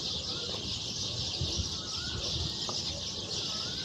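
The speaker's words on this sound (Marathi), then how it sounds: "हा बघा पक्ष्यांचा आवाज." Birds call in the early morning outdoors, a steady chorus of chirps and twitters that carries on without a break over faint background noise.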